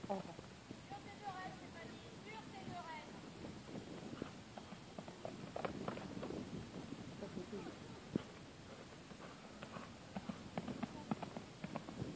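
Pony hooves clip-clopping at a walk on a riding course in a forest, a faint, uneven run of soft thuds with people talking over them throughout.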